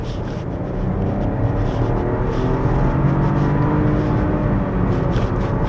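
A 2025 Chevrolet Trax RS engine revs hard in L2 toward fuel cut, a loud, close, steadily rising drone that holds near the top with no talk over it.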